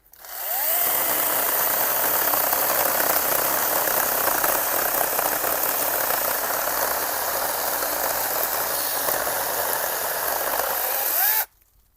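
A Procraft PKA 45 mini chainsaw with automatic oil feed cuts steadily for about eleven seconds, a loud, continuous buzzing whine that starts and stops abruptly, with no talking.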